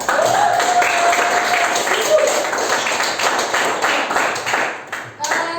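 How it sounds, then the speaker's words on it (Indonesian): Classroom applause for a student, a brief round of clapping from a small group of students that lasts several seconds, with voices mixed in. "Oke, kita aplaus buat Futuh"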